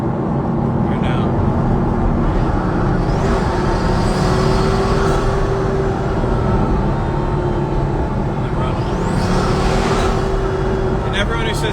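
Pagani Huayra La Monza Lisa engine droning steadily while cruising with the windows down, a constant loud rumble with wind noise and occasional rising revs.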